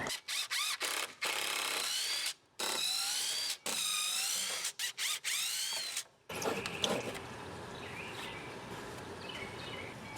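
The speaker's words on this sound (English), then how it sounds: "I'm just going to drive some extra screws down into the bottom, into the deck" A drill drives screws into an old wooden fence and deck outdoors, a string of loud whirring bursts with short pauses between them, followed by lower outdoor rumble and faint birdsong.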